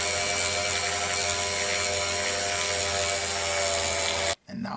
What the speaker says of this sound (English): Smooth everything up. And I use my Dremel tool again.